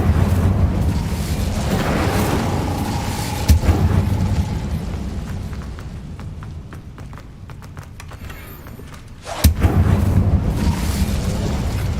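An Incendio fire spell is cast in Hogwarts Legacy, producing sharp whooshing bursts at about 3.5 and 9.5 seconds amid rumbling game sounds and running footsteps.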